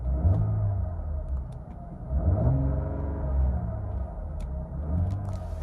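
A 2022 Cadillac CT5 engine rumbles with a deep, throaty low note, swelling and easing in waves as if lightly revved, close and continuous with no talking.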